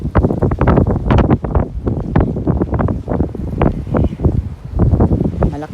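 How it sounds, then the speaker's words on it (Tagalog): Strong wind buffets the microphone on a fishing trip out on the water, loud, gusty low roaring bursts that pulse irregularly throughout, with voices partly mixed in. "ang lakas ng hangin"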